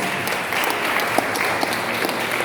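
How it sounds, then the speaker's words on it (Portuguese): A church congregation applauds during a Santa Ceia communion service, a sustained, fairly loud crowd clapping with a few sharper individual claps standing out, no speech over it. "Uma salva de palmas bem alegre para Jesus."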